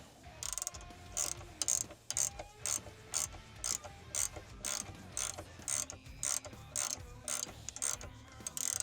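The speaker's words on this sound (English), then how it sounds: "we're gonna need another 19 millimeter wrench probably to get this tight" Ratcheting and clicking from a 19 mm wrench snugging a bolt on a Ford Focus ST mount, short repeated bursts in a steady rhythm, close and fairly loud, with no talk.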